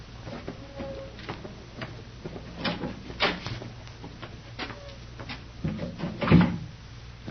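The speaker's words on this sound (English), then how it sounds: "I'll go ahead and open the door." Several wooden knocks and clunks sound as a door is handled and opened, loud and close, over a low background hum, with no talking in between.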